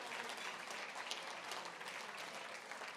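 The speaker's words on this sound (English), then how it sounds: "Please let's give them a round of applause." Gala night crowd giving a sponsor a round of applause, sustained dense clapping that stays steady and fairly loud throughout.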